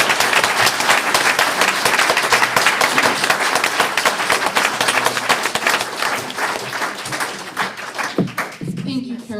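Audience applause for speakers at a women's rights panel in Seattle, dense steady clapping from a crowd that tapers off near the end, with a brief voice emerging as it fades.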